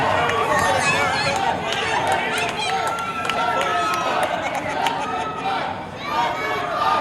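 A dense wrestling crowd at a Hurricane Pro Wrestling show roars and chants, a loud continuous wall of voices and clapping with rhythmic swells throughout, close and unbroken.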